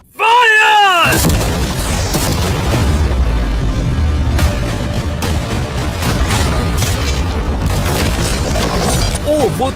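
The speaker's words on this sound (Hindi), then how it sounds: "अब हम तुम्हारी नई यॉट पर कैनन्स को शूट करने वाले हैं" Cannons fire at a yacht with a sudden loud boom, followed by sustained crashing, smashing and rumbling as storage containers are torn apart, and people shout over the noise.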